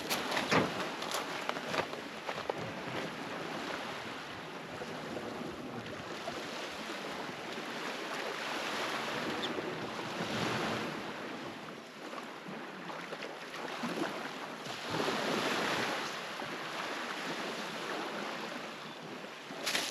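Gentle waves wash onto a calm, windless beach in remote Australia, a soft continuous surf hiss that swells and fades in slow surges, with nothing else audible.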